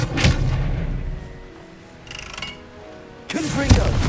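Expelliarmus disarming spell in Hogwarts Legacy: a sharp magical crack and whoosh at the start, then a softer lull and two more bright bursts and booming impacts near the end.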